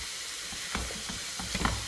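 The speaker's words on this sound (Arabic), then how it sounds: "دوك نقلي هادو يتقلاو كاع" Cumin, ginger, black pepper and salt fry in a pan, giving a soft, steady sizzle with a few light stirring scrapes toward the end.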